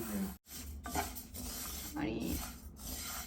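Sesame seeds, a mix of white and brown, stirred continuously in a dry pan as they roast, giving a steady close scraping and rustling rasp with a brief pause.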